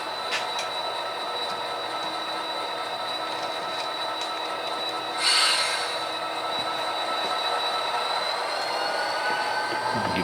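A Union Pacific freight train works hopper cars onto an industry track in Orange, California, giving a steady rolling rumble with a brief burst of wheel squeal midway and a thin, sustained squeal toward the end, without talking.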